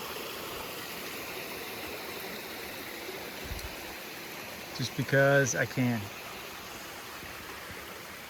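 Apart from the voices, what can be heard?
small brook flowing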